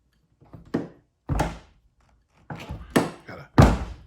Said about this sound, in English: Gotta slam it to get it to close.